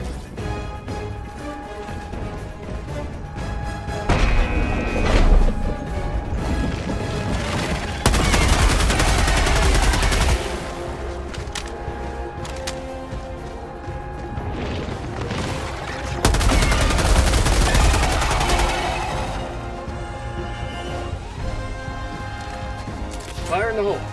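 Gunfire from Helldivers 2 rattles through the mix in loud, dense bursts, with heavier booming volleys around the middle and later stretches, layered over game voices and background music.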